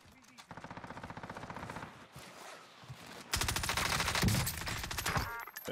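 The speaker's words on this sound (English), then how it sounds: "There are a lot of shots going on over here." Rapid automatic gunfire rattles through a Call of Duty Cold War Warzone match on Rebirth Island, sustained bursts that grow louder and denser partway through, with footsteps faintly underneath.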